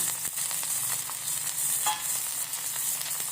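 Curry leaves and coriander sizzling in a hot tempering in a pan for dal, a soft continuous frying hiss with light stirring, no talk.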